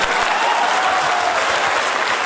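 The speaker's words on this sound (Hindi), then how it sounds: "तो चाचा साहब के लिए एक जोरदार ताली" Audience applause at a Vestige business event in India, a dense steady clapping from a large crowd lasting a couple of seconds without pause.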